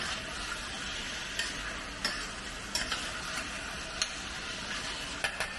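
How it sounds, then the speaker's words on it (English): Lamb heart and liver sizzle steadily in a hot curry pan, a dense continuous frying hiss broken by scattered scraping clicks as a utensil stirs the meat. "Once the heart and liver is cooking, you just keep stirring it"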